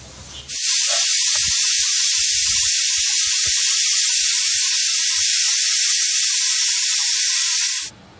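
A pressure cooker whistles while cooking chole masala, a loud, sustained hissing steam whistle that starts abruptly, holds steady for about seven seconds with faint kitchen clinks underneath, then stops sharply.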